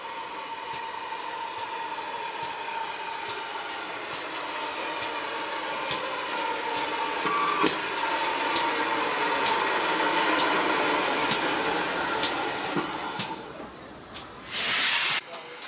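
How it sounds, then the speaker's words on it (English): A demonstration freight train on a heritage railway passes with a steady, loud steam hiss and rumble. Sharp clanks recur throughout, and the sound briefly surges near the end. "These days, many heritage railways run demonstration freight trains."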